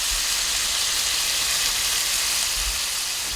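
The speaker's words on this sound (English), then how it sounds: "Frying up the fish here." Battered fish frying in hot oil gives a steady, dense sizzle, loud and continuous throughout with a faint low rumble underneath and no voices.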